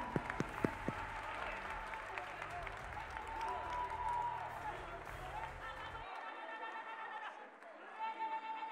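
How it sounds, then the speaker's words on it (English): A church congregation claps hands together during a service, steady applause mixed with voices and music that thins out partway through. "Clap your hands together for Jesus Christ."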